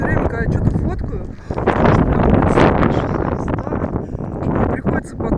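Strong gusts of wind buffet a microphone outdoors, producing loud, continuous roaring rumble that swells and eases, while someone talks over it.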